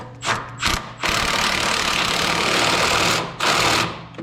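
A ratchet tightens Kryptonite lower bump stop bolts on a 2001–2010 GM 2500HD/3500HD truck: a few short mechanical bursts, then a sustained buzzing, clicking run of about two seconds and one more burst, all close up.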